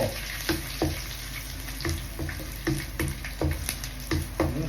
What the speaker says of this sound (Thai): น้ำมันมันเดือดแล้ว